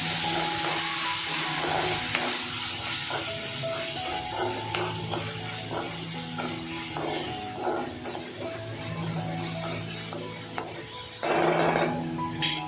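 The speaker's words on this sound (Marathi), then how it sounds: "तर त्याच्यात आलं लसूणची पेस्ट टाकूया, एक चमचा मोठा। जरा परतूया, कच्चेपणा जाऊ दे त्याचा आलं लसूणचा।" A big spoonful of ginger-garlic paste sautés in a pan with softened onion for a dry chicken liver dish. It gives a continuous busy sizzle with scraping stirs, and the sound swells louder just before the end.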